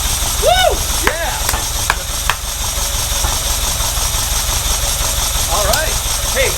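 A 1979 Ferrari 308 engine runs steadily just after its first start, a continuous close mechanical rumble beneath scattered whoops and cheering voices.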